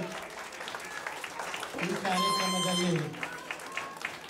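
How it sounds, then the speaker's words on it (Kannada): Audience applause at an Ugadi film-dance program by a Kannada association, a brief burst of clapping lasting a couple of seconds in a hall, with a voice speaking over it before and after. "ದೊಡ್ಡ ಚಪ್ಪಾಳೆ."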